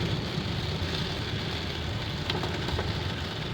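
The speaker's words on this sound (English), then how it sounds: "the rain is beating up and it's moving from off of the windshield" Rain beats on the windshield of a moving car with the wipers off, a dense steady patter over road and cabin noise, with a few louder drops near the end.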